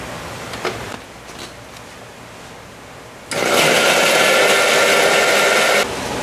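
An electric blender grinds pea puree in a kitchen, starting low and muffled, then roaring up into a loud, steady high-speed whir that holds for a few seconds before easing off.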